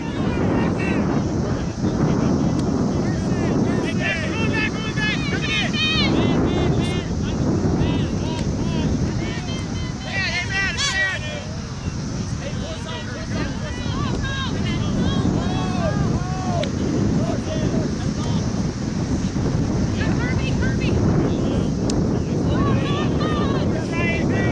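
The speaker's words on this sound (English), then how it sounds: "Wind took it to the ground, unfortunately." Strong wind buffets the microphone steadily and loudly outdoors during an ultimate frisbee game, a constant roar throughout with people's voices faintly audible beneath it.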